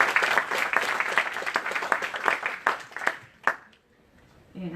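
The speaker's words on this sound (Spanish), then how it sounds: "Sus palmas, por favor." Applause at a university lecture in Lima, dense and lively for about three seconds, then thinning to a few scattered claps and fading into near silence before a voice begins.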